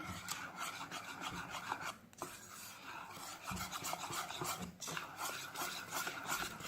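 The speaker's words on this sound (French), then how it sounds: "Ensuite, on continue à tout mélanger ensemble" Coconut cake batter is worked together with flour in a bowl, giving a continuous rough scraping and rubbing that runs without pause, close and moderately loud.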